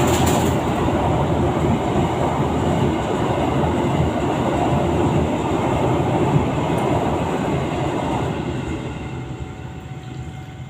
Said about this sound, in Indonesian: Ayo kereta lewat, kereta api lewat